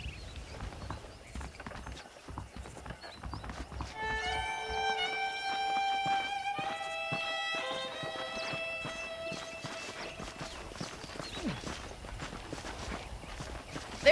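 Horse hooves clip-clopping at a steady walking pace in the Western game Red Dead Redemption, mixed under a melodic music score and ambient game sounds, moderately loud throughout.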